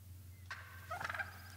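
A male wild turkey gobbles in theHunter: Call of the Wild, set in Mississippi, giving one short rattling gobble at moderate distance over a low steady hum.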